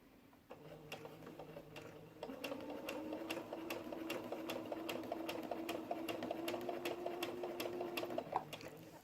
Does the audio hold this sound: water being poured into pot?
no